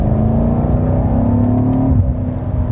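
A 2019 BMW M5 G30's engine revs hard with a loud, close, rising drone, then drops in pitch at an upshift about two-thirds through and continues pulling.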